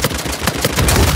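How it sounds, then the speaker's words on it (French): A grenade going off in the video game Uncharted 4 during a multiplayer bounty hunter match, a loud, dense burst of blasts and gunfire-like cracks filling the whole moment. "je lance une grenade"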